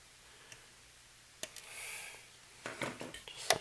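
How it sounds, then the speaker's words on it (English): Wire cutters snip two component leads during tube preamp power supply assembly, giving a couple of sharp, quiet clicks followed by faint handling rattles at close range. "So I'm going to cut those two off."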